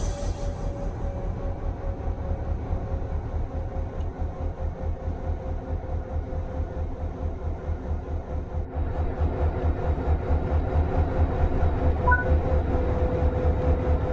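A Metrolink train on the San Bernardino Line in Train Sim World 5 gives a steady, loud, low mechanical rumble with a rhythmic pulsing drone that swells slightly partway through. No voices are heard.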